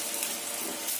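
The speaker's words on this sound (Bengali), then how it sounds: "আমি একটা একটা করে চিকেন ফ্রান্স ফ্রাই দিয়ে দিব।" Chicken french fries sizzle in hot soybean oil, a close, steady hiss of frying with no pauses.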